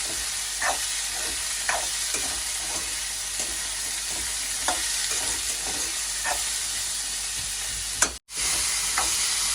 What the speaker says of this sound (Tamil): பொடியை நல்லா பிரட்டி எடுப்போம் இது வந்து நல்லா எண்ணெயில் வதங்கி வரட்டும்